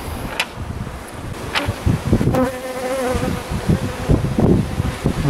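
Honeybees buzz in and around an open, divided beehive, a dense, close hum with scattered individual bees droning past the microphone.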